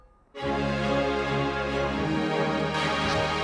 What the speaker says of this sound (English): So if I take those off, the synths plus strings sound like this.